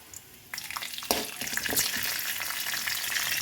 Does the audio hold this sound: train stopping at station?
no